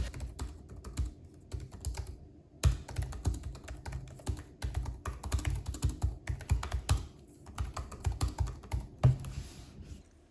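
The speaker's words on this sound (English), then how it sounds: "Here's what the keyboard sounds like when you're typing." Steady, rapid typing on a 2021 Razer Blade 14 laptop keyboard, close and clear, with light clicky keystrokes in a continuous rhythm and no talking.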